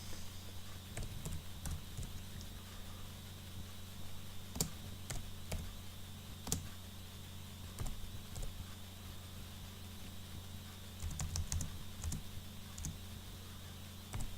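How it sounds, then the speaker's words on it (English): Soft, irregular keyboard typing on a computer, close by and faint, scattered clicks and taps coming in loose bursts over a steady background hum. "I'm just typing something."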